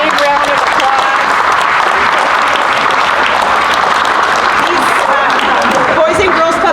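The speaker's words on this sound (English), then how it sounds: "let's give these folks a big round of applause" A crowd at a community ribbon-cutting ceremony for a Boys and Girls Club STEAM center applauds, dense and sustained clapping filling the room throughout.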